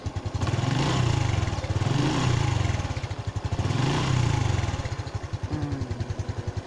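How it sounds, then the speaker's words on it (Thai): A 2019 Honda Wave i 110 motorcycle engine, hand-started, putters close by, revving up and settling back in slow repeated waves before idling with a steady thumping rhythm. "เนี่ยเสียงของ Honda Wave i 110ปี2019"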